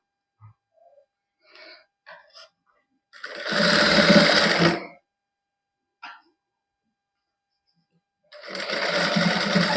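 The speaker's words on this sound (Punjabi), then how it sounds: "ਇੱਥੋਂ ਤੱਕ ਸਲਾਈ ਲਿਆਓ" A sewing machine stitches lace onto a lined, embroidered suit in two loud, steady runs, one longer burst and then another near the end, with faint handling sounds and brief voice sounds in the pauses.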